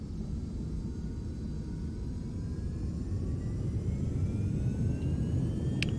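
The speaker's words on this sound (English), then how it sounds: "Do full power takeoff because it's a short runway." Twin jet engines of a Premier 1A business jet spool up to full takeoff power on a short runway, giving a steady, dense roar with a faint high whine above it.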